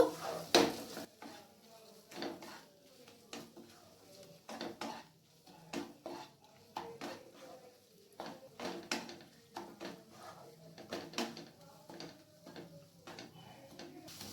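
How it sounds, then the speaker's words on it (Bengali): A utensil scrapes and clinks in a pan while ginger garlic paste is fried and stirred, giving faint, irregular clatters and scrapes throughout with soft background noise. "আদা আর রসুনের পেস্টটাকে ভালো করে ভেজে নেব।"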